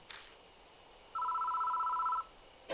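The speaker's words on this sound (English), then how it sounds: "The phone starts ringing out of nowhere." An electronic telephone ring in the horror game Death Mark, a single warbling two-tone trill lasting about a second over quiet ambience, with a brief click at the start and another sound beginning at the end.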